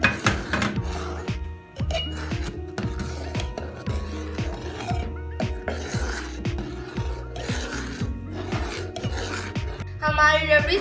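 A spoon stirring milk thickened with added milk powder in a metal pot while making rabri, a steady rhythmic scraping and rubbing against the pot, close and continuous with a soft tonal hum underneath.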